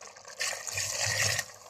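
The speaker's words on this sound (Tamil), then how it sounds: "தண்ணி ஊற்றணும்" Water pours into a pot of curry with potatoes, a brief soft liquid splash and trickle that starts suddenly, runs about a second and stops, heard up close and quiet.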